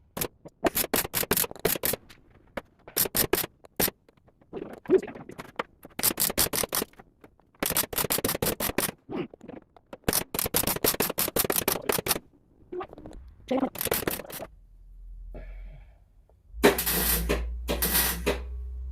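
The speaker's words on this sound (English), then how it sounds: "we're going to be doing the spot welds" Spot welding on a car body panel during a door, closing plate and wing repair: a series of sharp crackling bursts in rapid clusters with short pauses between, fairly close and loud, ending with a low hum and a couple of broader bursts.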